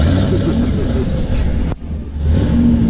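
A car with a Corsa exhaust revs, its deep rumble steady and loud, then cuts briefly before picking back up, with talk mixed in at a car meet.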